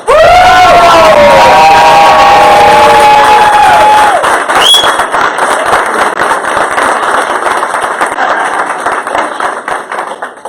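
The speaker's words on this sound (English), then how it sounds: "give her the loudest round of applause that you've ever given" A large crowd at a master class erupts in loud, sustained applause and cheering, whoops and whistles rising over dense clapping right from the start, then settling into steady heavy clapping that carries on to the end.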